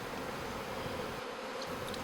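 A honey bee swarm of tens of thousands of bees gives off a dense, steady buzzing drone, close and continuous with no pauses.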